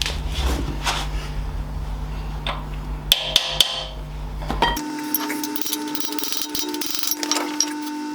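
A few sharp metallic taps ring out in a quick cluster as a brass drift is hammered on the rear hub of a Foden truck during restoration. Quieter workshop clatter and handling noises surround the taps.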